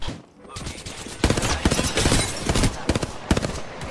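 Gunfire in the Apex Legends battle royale game, a rapid string of sharp shots and bursts over busy game noise, with a player talking over the action.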